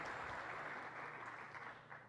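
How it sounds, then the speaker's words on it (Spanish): Audience applause at a lecture, a steady dense wash of clapping from a seated crowd, fairly faint and continuous for about two seconds before easing off slightly at the end. "un fuerte aplauso para el doctor"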